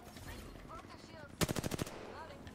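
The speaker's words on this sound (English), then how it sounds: "They're shooting at me." A rapid automatic burst of about eight sharp shots rings out in Apex Legends, loud and close, following a stretch of quieter game sounds and faint voices.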